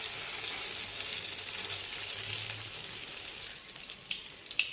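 An egg-battered bread slice sizzles steadily in a pan, a continuous bright crackle with faint pops near the end.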